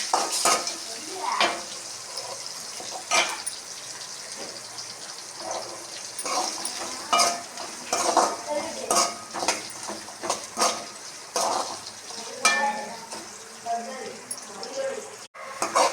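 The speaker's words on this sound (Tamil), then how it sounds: "வெங்காயம் நல்லா வதங்கணும்." Onions sautéing in a pan while being stirred, with a continuous sizzle, repeated scraping strokes and clinks of the spoon against the pan, and voices talking over it.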